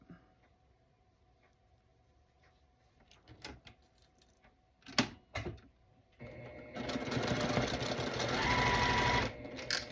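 A sewing machine runs steadily for several seconds while stitching a quilt block, loud and close, after a quiet stretch of faint handling clicks and rustles.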